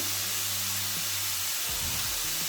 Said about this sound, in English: And just start browning the onion.